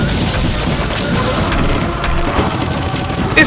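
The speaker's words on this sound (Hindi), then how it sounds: "ये सारे फौजी गोलियां चलाते हैं" Soldiers firing guns at a monster, a loud dense clatter of overlapping shots and crashing impacts that continues without pause from start to end.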